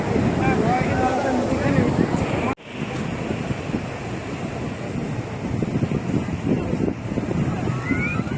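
Strong seaside wind at Digha or Mandarmani roars and buffets the microphone with surf underneath, cutting out for a moment partway through before gusting on loudly, with voices faintly present.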